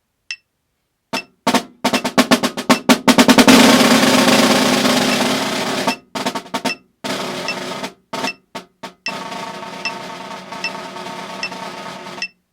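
Snare drum working through an all-state audition etude line: sharp single strokes, quick accented bursts and a buzzing roll that swells, then staccato hits and short figures separated by brief silences, close and loud with nobody talking.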